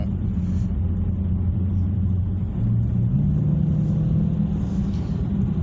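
A muscle car with a 309 rear gear and an eight-speed TorqueFlight automatic cruises gently in eco mode, a steady low engine rumble and road drone filling the cabin, loud and constant with a slight rise midway.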